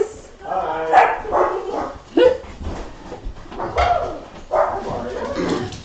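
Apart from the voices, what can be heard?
dogs barking as friends arrive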